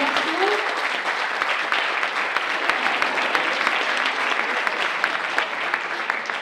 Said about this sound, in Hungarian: Tapsoljuk meg Kamillát